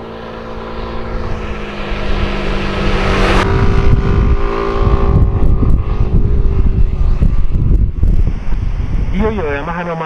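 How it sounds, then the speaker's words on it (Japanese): A Yamaha Majesty S scooter (2013) rides a winding road, its engine drone steady under heavy wind rush, with the pitch shifting partway through as the throttle changes and a rising whine near the end. "いよいよヤマハのマジェスティ S でワインディングを走り始めました。"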